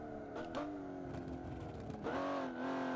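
A limo driven on a racing course in BeamNG revs hard, its engine note rising and falling in steady tones as the throttle is worked, loud and close with no talk.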